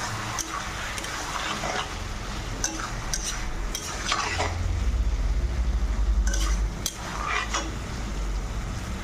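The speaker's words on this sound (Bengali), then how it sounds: "টমেটো দিয়ে একটু কষিয়ে নেব।" Tomatoes being sautéed with fried potato and cauliflower in a pan, with a spoon scraping and clinking against the metal in bursts over a low sizzle, close up, with no talking.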